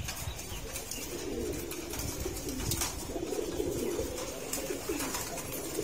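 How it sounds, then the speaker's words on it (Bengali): A flock of pigeons perched on a nearby building gives off continuous low cooing with occasional wing flutters, at a moderate distance and without talk. "ওই বিল্ডিংটার ওখানে বসে সব কবুতরগুলো,"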